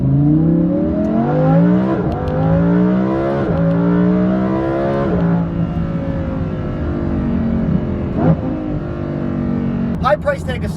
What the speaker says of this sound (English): have you heard the sound of the GT500?